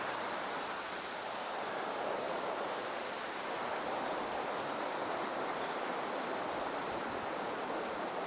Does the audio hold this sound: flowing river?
yes